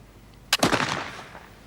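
A single sharp gunshot fired at a target during shooting practice, close and loud, with a short decaying tail and no talk.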